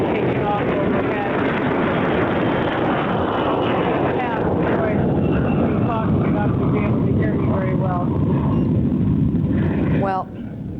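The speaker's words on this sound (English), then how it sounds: "You can hear an airplane taking off overhead." Jet airplane taking off overhead at an airport, a broad loud roar that fills the whole stretch behind a reporter talking continuously, then drops away abruptly at the end.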